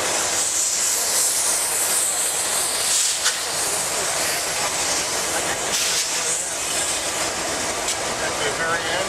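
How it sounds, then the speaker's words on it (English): A steady roar and hiss of a passing CSX freight train fills the clip, with faint clicking of wheels on rails throughout. "There's even a CSX freight train over there."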